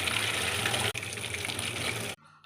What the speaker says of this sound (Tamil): நல்லா அலசி எடுத்துக்கோங்க.